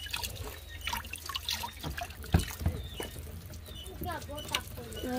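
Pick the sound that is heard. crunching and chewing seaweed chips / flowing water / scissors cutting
flowing water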